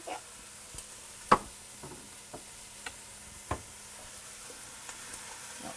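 Minestrone vegetables and bay leaves sautéing in a pot give a faint, low sizzle, with a few scattered clicks and one sharper knock of a utensil against the pot, quiet and without talking.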